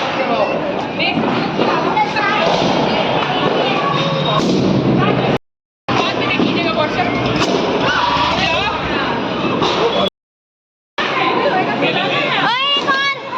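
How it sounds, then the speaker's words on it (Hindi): Diwali firecrackers and fireworks go off in a crackling, popping stream of bursts, close and loud, mixed with lively chatter from people nearby. "सारे पटाखे"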